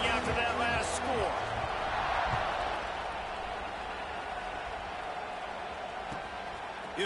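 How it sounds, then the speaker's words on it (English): Stadium crowd in a college football video game buzzing after a touchdown and extra point, a steady wide roar of massed voices with a few sharp thuds and tonal calls early on, holding at an even level throughout. "this crowd is buzzing after that last score"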